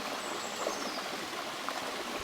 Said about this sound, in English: Sound of the river